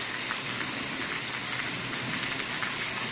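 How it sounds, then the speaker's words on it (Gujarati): Steady rain falling at night on a village spot lit by electric light, a dense even hiss of drops spread across the whole clip, with a faint low rumble underneath and no talking. "આપણો વરસાદ કેટલો આવે"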